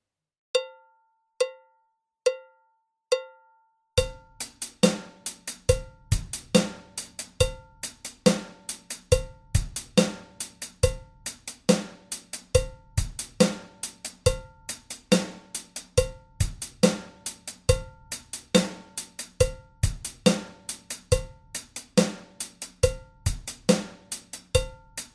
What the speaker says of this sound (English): I'll play the whole groove for you now at 70 beats per minute so you can hear what we're aiming for